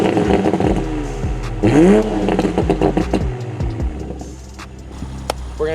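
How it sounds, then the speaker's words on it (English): Exhaust of a nitro Toyota Supra revving up and down with crackling pops and clattering bursts, loud and close, ending in a lower idle rumble. "Now we'll do some exhaust clips."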